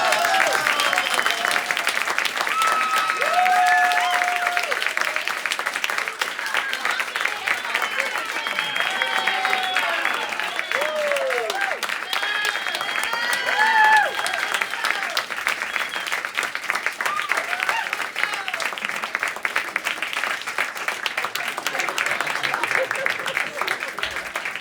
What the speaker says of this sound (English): To you we give a round of applause